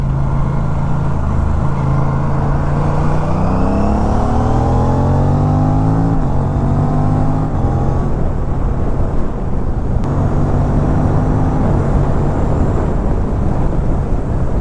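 An Aprilia RS 457 with a GPR exhaust and the dB killer fitted rides at night, its loud, close engine note climbing in pitch through repeated revs and gear changes, then settling into a steady drone.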